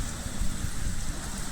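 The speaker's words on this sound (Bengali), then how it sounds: "তো প্রচণ্ড বৃষ্টি হচ্ছে।" Heavy rain pouring outdoors in the morning near potted plants, a dense steady hiss of falling water, moderately faint and continuous with no talk.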